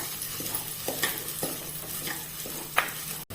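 Chopped onion and curry leaves frying in a pan give a constant close sizzle, with a few light scraping taps from stirring and a short click near the end.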